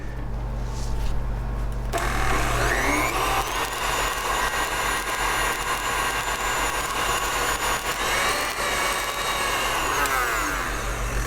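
A stand mixer runs steadily, a loud continuous motor whir with a high whine that shifts pitch slightly as it churns, heard alone.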